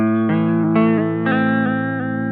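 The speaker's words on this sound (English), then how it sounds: "when you choose a square wave, you're getting a much harsher attack there, so you're getting a much more pronounced effect" A Chase Bliss Audio Warped Vinyl pedal with square-wave modulation turns sustained tones into abrupt, stepped pitch jumps every half second or so, loud and steady without talk.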